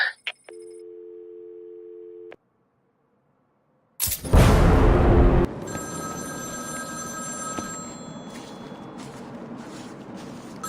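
A telephone in the Batman game's Cold Call Killer side mission gives a short steady ring tone, then silence, then a loud crashing burst that fades into a humming, droning background.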